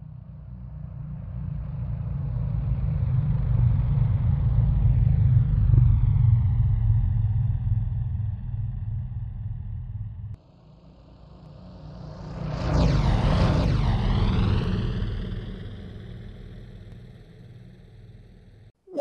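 Engines in the video game Stormworks show the Doppler effect: two vehicles pass close by in turn, each rising to a loud roar and then dropping in pitch as it moves away, the second with a sharper sweep.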